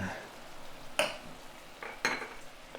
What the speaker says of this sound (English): we're going to deglaze the pan now with the vinegar and the preserves, and just mix it all in with the onions